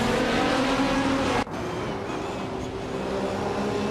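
Several 2004 Ferrari 550 GTS race cars roar around Sonoma in a racing video game, engines droning loud and steady. One engine cuts off abruptly partway through, and a lower drone carries on after it.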